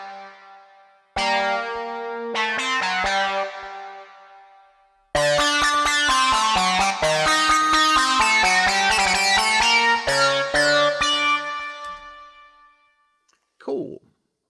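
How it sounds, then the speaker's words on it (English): A Logic Pro Retro Synth polysynth lead with hard sync, reverb and delay plays a bright melodic phrase, pausing briefly before a denser run of quick notes that trails off into reverb, ending with a short spoken word. "And I really like the hard sync sound that you can get out of the retro."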